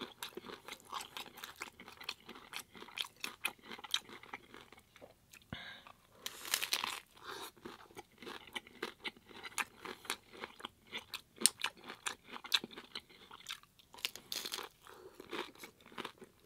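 Close, crisp crunching and chewing of vegan jumbo taco shells filled with plant-based chick'n, loud repeated bites and mastication in uneven bursts, with no talk.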